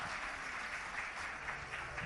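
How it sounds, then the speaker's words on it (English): Audience applause at the Indian of the Year 2022 award ceremony, a steady wash of clapping from a large crowd that runs unbroken from start to finish at an even level, with no voices heard over it. "big round of applause for Smriti Irani ji and also Mr."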